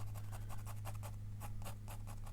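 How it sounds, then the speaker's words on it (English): A marker scribbles quickly on paper while ink flower cards are drawn, a soft rhythmic scratching of rapid strokes heard close up and faint, with a steady low hum underneath. "You can hear me scribbling on the paper."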